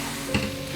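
Spiced potato filling mixed in a pan, one quick scrape of a spoon over a low background hiss.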